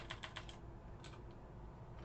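Quiet clicking of a computer keyboard as someone types code in a development environment, a quick burst of several keystrokes followed by a pause and a few more scattered taps, faint and close.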